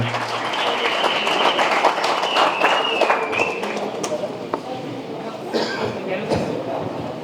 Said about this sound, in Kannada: ಜೋರಾದ ಚಪ್ಪಾಳೆ ತಟ್ಟುವುದರ ಮೂಲಕ ಅವರಿಗೆ ಅಭಿನಂದನೆಗಳನ್ನು ಸಲ್ಲಿಸೋಣ